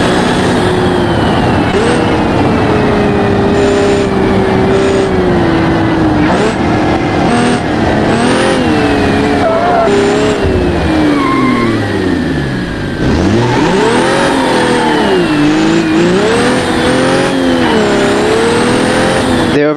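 A modified Autobello car in a video game revs hard with added power and a changed final gear ratio, a loud, close engine whine that climbs and drops through repeated gear changes, with someone talking over it.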